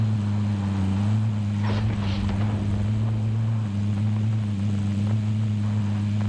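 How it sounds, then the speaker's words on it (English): A steady, droning helicopter rotor hum from the video game Call of Duty: Warzone fills the whole stretch, with a brief muffled knock partway through. "There's a helicopter in there right now, so someone's there."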